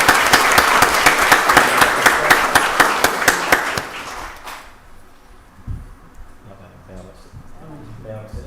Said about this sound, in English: Definitely want to give everybody another round of applause